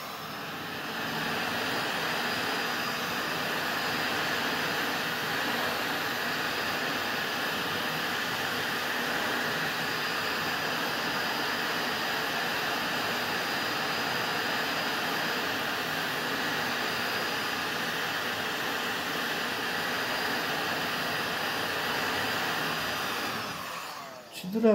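A heat gun blows steadily and loudly while heating a stuck bearing for removal from a Xiaomi M365 electric scooter, a continuous even roar lasting the whole stretch before cutting off at the end.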